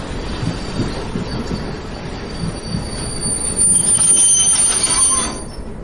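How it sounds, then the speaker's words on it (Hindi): Train wheels squeal loudly as a train brakes to a stop, a sustained high metallic screech over rumbling rail noise that swells toward the end. "तुम्हें यहीं पर ट्रेन रोकनी पड़ेगी।"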